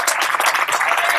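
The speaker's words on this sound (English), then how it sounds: "So give yourselves a round of applause." Audience applause at a RAROC club meeting at Donington, a short burst of dense, steady clapping from a crowd filling the whole moment.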